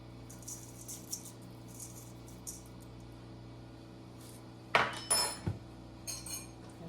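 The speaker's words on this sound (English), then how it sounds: "Give that a stir. Get it all mixed up." Quiet stirring of a dill seed bread mixture with salt in a bowl: a few faint scrapes, then a sharp cluster of spoon-on-bowl clinks and clatters, followed by softer taps.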